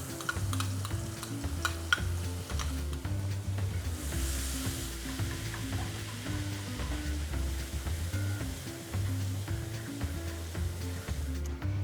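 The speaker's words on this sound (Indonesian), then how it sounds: "aku akan menumis bawang putih untuk bumbu kuahnya. Kita panaskan minyaknya dulu. Ya, kita tumis." Garlic sautéing in hot oil for a meatball soup broth, a steady close sizzle with occasional stirring clinks throughout, no talking.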